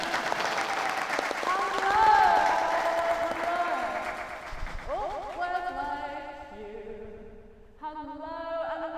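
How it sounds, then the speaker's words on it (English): An audience claps and cheers in a dense, loud burst that fades after several seconds, giving way to voices and other sounds. "Can we have some applause?"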